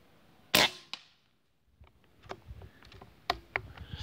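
A PCP M22 air rifle firing 34-grain JSB pellets at a 55-metre target gives one sharp, loud shot, followed by quieter mechanical clicks and handling sounds nearby.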